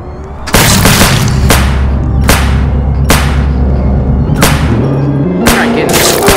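Gunfire rings out in a video game, a run of about seven loud, sharp shots spaced roughly evenly apart, close and punchy with ringing tails and a low hum underneath.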